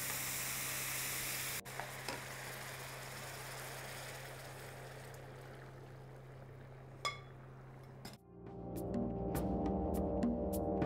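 Rice sofrito frying in a pan for arroz a banda, a steady close sizzle with stirring scrapes, then a sharp change as liquid is added and the sizzle turns to a bubbling, crackling boil.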